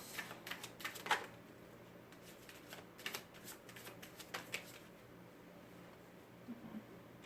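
Tarot cards are shuffled and drawn in quick, faint riffles and soft flicks, followed by scattered card snaps and light handling noises.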